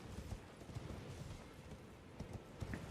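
Horse hooves clip-clopping in a video game played on an M5 MacBook Air, a quiet, steady run of soft hoofbeats under faint ambient game sound.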